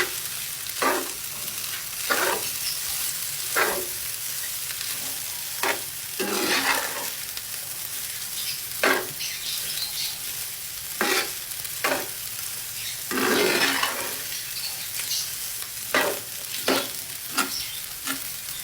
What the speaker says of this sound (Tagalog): saka natin ito hahaluin.